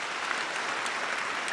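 Audience applause during a Bengali TV family game show, a dense, loud, continuous wash of clapping from a studio crowd without pauses.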